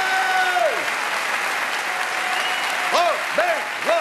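Audience applause for comedian Robert Lamoureux at a Jean-Marie Bigard stage show, a dense steady wash of clapping from a large crowd, with a few shouted cheers rising over it near the end.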